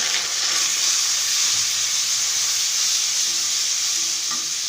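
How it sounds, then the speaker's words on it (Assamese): Onion, garlic and ginger fry together in a pan with a continuous, close hissing sizzle and occasional faint stirring, steady throughout with no talking. "পিঁয়াজ নহৰু আদা এইখিনি মই একেলগে দি লৈ এতিয়া এইখিনি মই ভাজি ল'ম"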